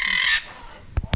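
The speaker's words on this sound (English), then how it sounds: "A lot of these birds talk too" Parrots at Parrot Mountain in Pigeon Forge let out a loud harsh screech, followed by two short sharp squawks near the end, close by with no speech.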